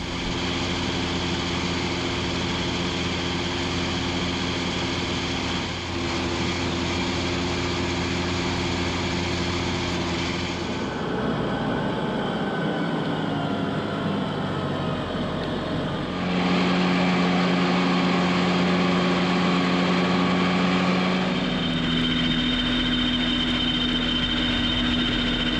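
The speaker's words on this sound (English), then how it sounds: "we're looking to get all the grass mowed down along the side of the road." A tractor mows grass along a roadside, its engine droning loudly and steadily, shifting in pitch and load as it works, with no talk over it.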